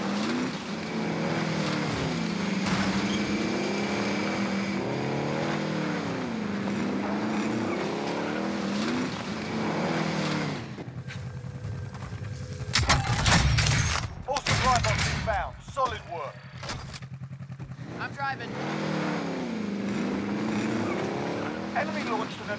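Engine of a vehicle being driven in the battle royale game Call of Duty: Warzone, a loud revving drone with rising and falling pitch, broken midway by bursts of gunfire and impacts before the engine resumes.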